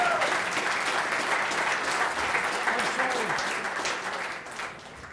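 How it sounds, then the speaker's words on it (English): Applause from an audience at a winter awards ceremony, sustained and fairly loud with a crowd murmur and voices under it, tapering off near the end. "How about a round of applause?"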